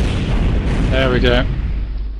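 Bombs released from a diving jet explode in the LOMAC flight simulator game, giving a brief, deep, rumbling boom with a brief voice-like tone over the middle.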